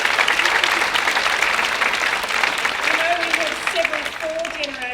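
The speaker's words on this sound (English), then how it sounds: "Can we give a big round of applause for those families?" Sustained audience applause for families at a school centenary celebration, steady and full throughout, with a voice beginning to speak faintly toward the end.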